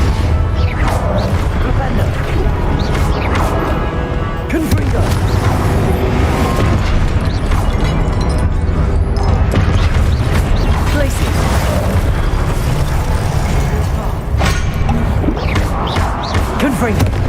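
Repeated Confringo fire blasts in Hogwarts Legacy, loud crashing booms layered with clattering impacts and combat noise, recurring across the stretch of battle without pause.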